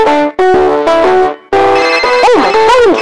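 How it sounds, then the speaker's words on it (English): A cartoonish phone ringtone plays loudly: repeated bright electronic tones in short bursts, then a rising and falling warbling melody, close and alone. "Oh, my phone's ringing."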